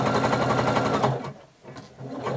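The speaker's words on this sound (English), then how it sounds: "now I'm going to sew from the neck at the shoulder down until I get to this circle marking" Sewing machine stitching the shoulder seam of a color-blocked pullover top, a fast steady needle chatter that pauses briefly midway and then resumes, close and loud with no talk over it.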